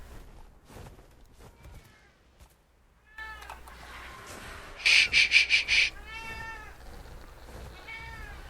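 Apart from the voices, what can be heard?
pet cat meowing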